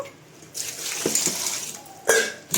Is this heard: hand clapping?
no